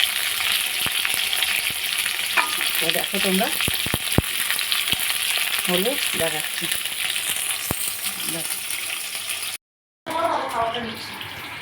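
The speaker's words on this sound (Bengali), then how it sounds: "অল্প অল্প করে নিয়ে এই যে ভাজছি" Food fries in oil in an open, uncovered pan, a loud steady sizzle with occasional utensil clicks, while someone talks over it at intervals before a short break in the sound.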